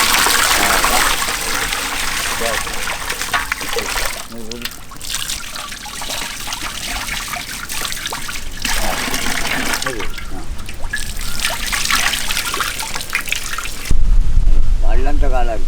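Tap water runs steadily as raw fighting-breed village chicken is washed for a traditional soup, with splashing and trickling throughout and a louder gush near the end; no speech is heard over the water.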